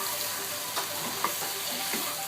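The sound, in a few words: soya nuggets frying with fish in a pan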